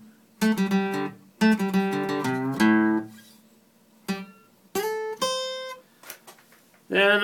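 An acoustic guitar plays a riff fast, in short bursts of strummed and plucked chords separated by brief pauses, with some notes ringing and sliding.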